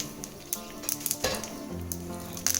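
Dal and a broken dried red chili sizzle in hot tempering oil for coconut chutney, with a soft, crackling fry interrupted by light clinks and stirring taps of utensils against the pan.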